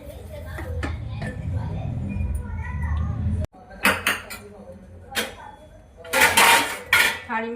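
A besan (gram flour) sweet mixture being stirred and scraped in a metal pan, with clattering metal-on-metal knocks and scrapes, louder in a burst near the end, while someone talks over the first half.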